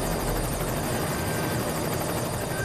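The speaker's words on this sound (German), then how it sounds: "der Hubschrauber wird von Geisterhand geflogen." Helicopter rotor and engine noise from the video game Cryostasis, a steady, loud, close droning whir that holds without a break and with no voices over it.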